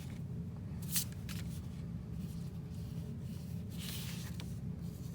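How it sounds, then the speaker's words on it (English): A sheet of drawing paper turned on a tabletop while a children's mandala is sketched, giving soft, dry rustles and brief scrapes over a steady low background hum, fairly quiet and close. "all I'm doing, friends, is rotating my paper."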